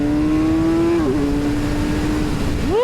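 Kawasaki Z1100 motorcycle engine pulling hard after a downshift into second gear, a steady close-up drone that dips briefly at the shift then rises sharply in pitch as it revs up at the end, with no talking.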